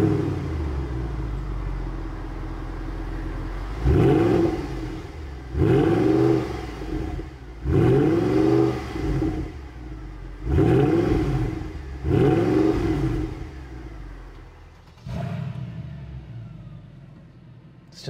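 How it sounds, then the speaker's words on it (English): A Mercedes-AMG CLK 63 Black Series V8 starts with a loud bark and settles into a deep rumbling idle, then is blipped through five strong rev bursts with burbling dips between, close and with no talk. "And now let's turn it on."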